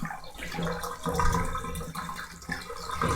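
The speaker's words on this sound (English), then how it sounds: "Look at all that lovely manure water going down the drain." Manure-laden wool-wash water rushing out of a tub down a drain, a continuous loud gurgling, churning flow.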